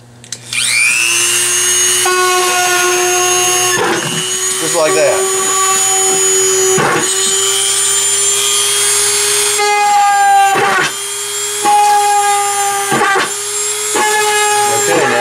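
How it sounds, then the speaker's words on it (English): A Dremel rotary tool drilling holes into the bottom of a cheap Dollar Tree plastic bucket, giving a steady high-pitched whine that runs almost throughout, with brief pauses and shifts in pitch; a person speaks briefly. "I am going to use my Dremel, and I am going to drill holes in the bottom"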